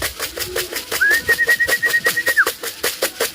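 Racing pigeons coo at a loft in England, close and fairly loud, amid a rapid rhythmic pulsing and a sustained high whistle-like tone lasting about a second and a half.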